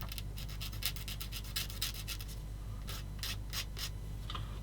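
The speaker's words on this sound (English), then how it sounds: "come in with the sanding stick a little bit for this one." Quick, rhythmic scratchy rubbing strokes of a sanding stick on a plastic 1/35 scale Takom Wiesel model kit part, close and fairly quiet, in bursts with a short pause midway.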